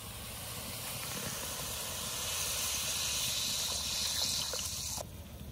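Spiced water boiling in a pan for hilsa curry, giving a steady close hissing, bubbling roar with faint crackles, unbroken throughout and dropping slightly at the very end.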